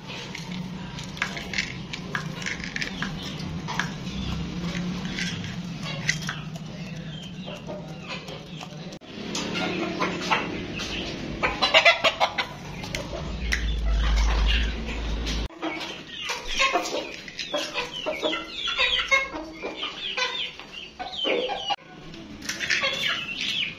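Gamecock chickens at feeding time cluck and flap their wings in a yard, with scattered pecking and scratching and someone speaking now and then, the birds at moderate distance.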